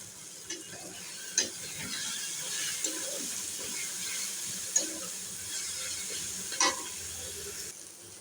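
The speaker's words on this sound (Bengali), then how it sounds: "এরপর দিয়ে দিলাম টমেটো কুচি, ধনেপাতা, কাঁচা লঙ্কা, ভালো করে ভেজে নেব।" Chopped tomato, coriander and green chilli fry with onion in a pan, giving a soft continuous sizzle with a few sharp stirring clinks spaced several seconds apart.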